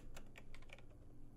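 Computer keyboard typing in a cipher-solving session of the game Receiver 2: a handful of scattered, uneven key clicks over a low steady hum, fairly faint, with no voices.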